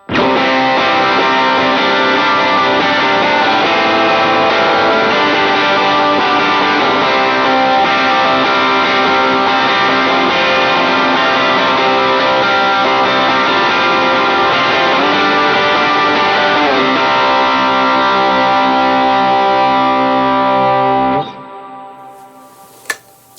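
A distorted electric guitar through an HX Stomp with reverb strums sustained rhythm chords in a dense, ringing wash for about twenty seconds, then cuts off to a quiet fade.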